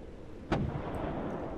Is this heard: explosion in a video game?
yes